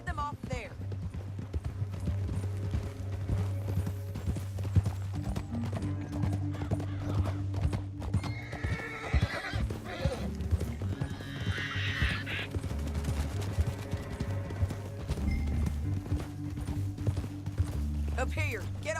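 Horses clip-clop along a canyon trail in Red Dead Redemption 2, hooves thudding steadily with whinnies rising at moments, set against a low music bed and spoken dialogue.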